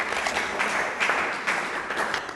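Steady, dense applause from a pageant audience greeting a contestant, filling the whole moment at even loudness with no talk over it.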